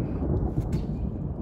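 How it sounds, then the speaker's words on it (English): Thunder rumbles low and steady close by in an outdoor garden with tomato plants and squash growing in containers, a brief continuous deep roll without distinct cracks. "That's Thunder."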